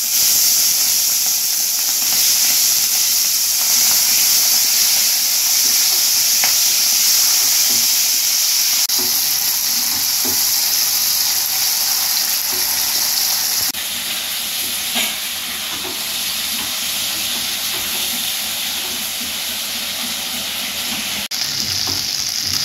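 Prawns frying in a hot pan with turmeric for a Bengali prawn curry, a loud, steady sizzle and hiss that runs unbroken throughout with occasional small crackles.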